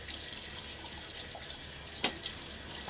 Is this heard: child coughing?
no